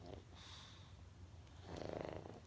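Heavy rhythmic snoring runs steadily under a bedtime story being read aloud, with a louder, rasping breath swelling near the end.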